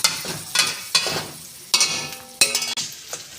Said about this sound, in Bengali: মশলাটা ভালো করে ভেজে নিই এঁচড় আলু সেদ্ধটা দিয়ে দেবো